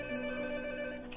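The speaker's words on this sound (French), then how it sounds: "Non, là, malheureusement, c'est le téléphone sur une autre ligne." A telephone rings on another line, a steady electronic bell tone held close and loud throughout, with no talk over it.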